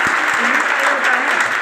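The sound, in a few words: applause welcoming an honoured student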